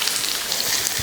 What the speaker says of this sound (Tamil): எண்ணெய் ஊற்றி எண்ணெய் காஞ்சிருச்சு. அதில் வெங்காயம் சேர்த்துக்கலாம்.